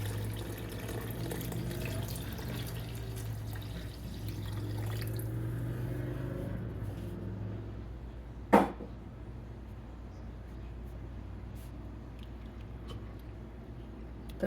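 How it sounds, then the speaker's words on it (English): Vegetable broth pours into a pot of mushroom wild rice soup as a steady, gurgling liquid stream that tapers off, followed by a sharp clink and quieter background. "And I'm going to add vegetable broth."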